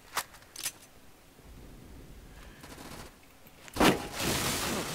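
Tap-fired shots from a weak gun in a first-person shooter game: two sharp single cracks near the start, then a louder cluster of shots toward the end over a steady background hum.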